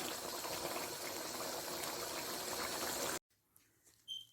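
Chicken curry bubbles steadily in a pot as its water cooks off, a dense continuous simmer that cuts off abruptly, followed by faint clinks and near silence.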